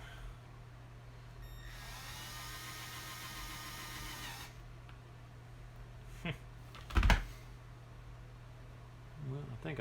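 A power drill fitted with a bit, used on a tile cutter, whines steadily for a couple of seconds at close range over a low background hum, followed by scattered knocks and clatter.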